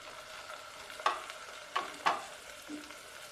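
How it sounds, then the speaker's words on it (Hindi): A spoon stirring ridge gourd curry with spices in a pot, with a few distinct scraping clinks against the pot over a steady low sizzle, close and moderately quiet. "अब हम इसे अच्छे से मिक्स करेंगे।"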